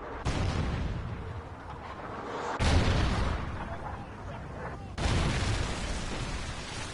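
Trinity rocket strikes in a video game: three heavy, booming explosions a couple of seconds apart, each with a long rumbling tail, loud and close.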